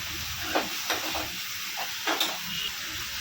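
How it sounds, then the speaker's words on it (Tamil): Chopped onions and green chilies sauté in a pan, a soft continuous sizzle broken by a handful of brief stirring scrapes, near and quiet, with no voices. "வெங்காயமும் பச்சை மிளகாவும் சேர்த்து போட்டுக்கலாம். அதை நல்லா வதக்கிக்கலாம்."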